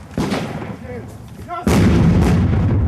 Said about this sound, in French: à coups de mortier, aux fusils mitrailleurs, le combat est ouvert.